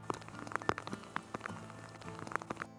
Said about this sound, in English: It's raining, it's really bad weather now.